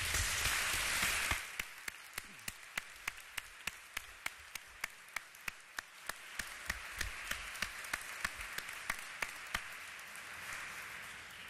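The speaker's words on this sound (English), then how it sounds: "So I would like a big applause to them." Applause from a graduation ceremony audience, beginning as a dense roar of clapping that thins out after a second or so into sparse, scattered individual claps, then swells again into a steadier patter of applause.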